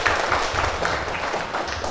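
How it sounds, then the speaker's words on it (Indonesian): A school audience gives a short burst of applause for the office boy, dense overlapping hand claps filling a hall at moderate loudness. "tepuk tangan untuk OB tersebut"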